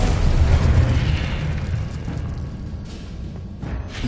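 A Confringo spell explosion in the video game Hogwarts Legacy, a deep rumbling boom that fades into a lingering roar, with short sharp bursts near the end.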